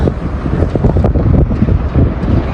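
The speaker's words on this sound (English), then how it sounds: "You want to see it's very windy." Strong wind buffets the microphone outdoors at a mall in St. Clairsville, Ohio, a loud, continuous gusting rumble with no talk.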